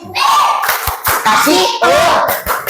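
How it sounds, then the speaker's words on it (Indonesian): A classroom group applauds a presentation group with loud, close clapping from many hands, strongest in bursts. Children's voices and cheering come through under the applause. "Tepuk tangan untuk kelompok Asyakur"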